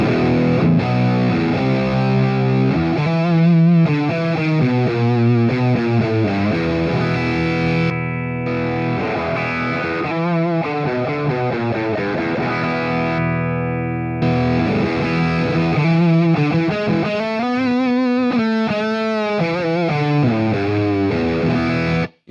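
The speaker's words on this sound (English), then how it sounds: "this sounds like it's almost veering into fuzz tone territory to me" An electric guitar played through a Grand Mage distortion pedal gives a thick, fuzzy, saturated tone, with chords and riffs ringing loudly in sustained phrases and brief pauses between them.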